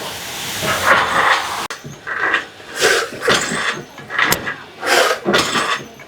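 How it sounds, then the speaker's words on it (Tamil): Bitter gourd frying in a pan at a Trichy restaurant gives a steady sizzling hiss that swells and fades in repeated bursts as it is stirred, loud and close, with no talking. "பாவக்காய் ஃப்ரை பண்ணுறான்"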